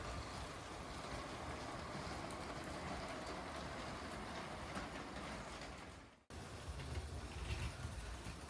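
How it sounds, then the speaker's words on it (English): A yellow LEGO freight train locomotive pulls a train car around a LEGO layout, giving a steady, faint rolling rumble that drops out briefly and then resumes. "we've got the yellow freight train locomotive pulling one of our HA Bricks train cars"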